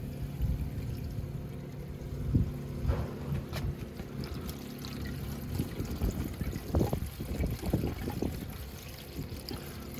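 A powerboat's saltwater pump discharges water that splashes and gurgles in uneven spurts, with a steady engine-like hum underneath, the splashing growing busier toward the end.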